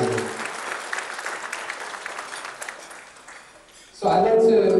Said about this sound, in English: Please give Ms. Clevenger another huge round of applause